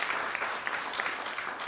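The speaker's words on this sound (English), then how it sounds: "Let's have a round of applause for Mr. Brian O'Geest." Audience applause at a book launch, a soft, steady wash of many hands clapping, distant and fairly quiet, with no talk over it.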